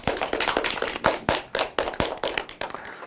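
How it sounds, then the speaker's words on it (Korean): Small audience clapping at an indoor event, a close group of hands giving distinct, slightly uneven claps in a brisk rhythm for a few seconds, with no talk over it. "박수 한번 주세요"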